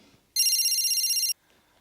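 A telephone rings alone in a quiet room, one steady electronic ring burst of about a second with a fast warbling pulse, loud and close, then quiet afterward.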